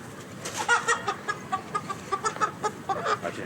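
A hen clucks nearby in a steady run of short, quick clucks for a few seconds, with little else around it.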